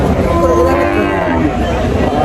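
A cow at a busy cattle market gives a loud, close, drawn-out moo lasting about two seconds, with a low murmur of the crowd underneath.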